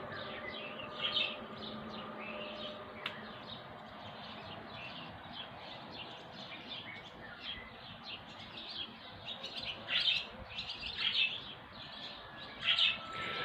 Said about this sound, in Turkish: Kuşların sesini duydukça bizim çapkın da ötmeye başladı.